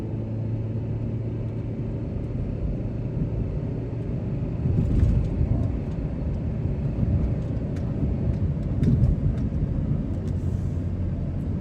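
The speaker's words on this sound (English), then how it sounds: "Put some gas into it, going uphill." A car with an automatic transmission accelerating uphill, heard from inside as a steady low engine and road rumble that swells twice with more throttle, with no talk.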